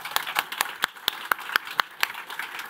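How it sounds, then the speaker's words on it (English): A few audience members at an Arendalsuka conference panel clap in a sparse, distinct rhythm, single claps spaced roughly a quarter second apart, fairly faint and nearby. "we give the panel a big applause."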